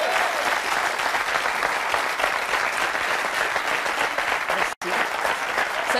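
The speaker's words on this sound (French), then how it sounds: "Waouh, bravo, on peut l'applaudir." An audience applauds after a singer's performance on a French TV show, with dense, sustained clapping throughout, interrupted by a brief dropout near the end.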